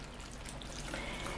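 Water pours steadily from close by over chopped green chillies in a bowl, a continuous splashing trickle lasting the whole moment with no talking.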